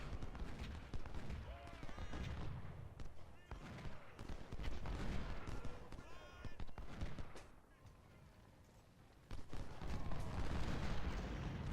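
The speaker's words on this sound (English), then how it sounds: "and they're going to just take a lot of artillery fire." Artillery and musket fire in the Ultimate General Civil War game, Cedar Mountain battle: dense, continuous booming and crackling gunfire with sustained loud rumble and occasional voice-like shouts in the mix.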